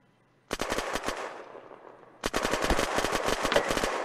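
Rapid automatic gunfire in the video game Unturned during an arena PvP match: a short burst of loud shots, a brief pause, then a longer sustained burst, all close and without talk.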